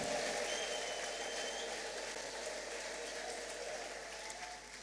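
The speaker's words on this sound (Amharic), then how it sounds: "ከዚህ በላይ ከፍ ያለ እልልታ ጭብጨባ።" A church congregation at a preaching service breaks into sustained applause, a dense, even roar of clapping from many people that carries on steadily and fades only slightly toward the end.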